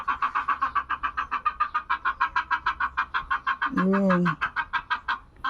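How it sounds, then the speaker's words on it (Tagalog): Chickens clucking in rapid, steady repeated calls close by, with a short louder squawk partway through and a brief spoken word near the end. "Talagang awang-awa ko sa mga manok na yan."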